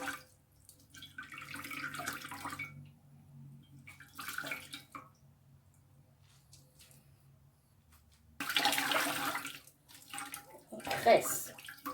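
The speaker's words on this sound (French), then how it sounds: "Je vais juste presser pour enlever l'eau" Water squeezed and wrung out of a freshly washed wig, soft squelching and running water in several bursts, with a voice talking quietly in between.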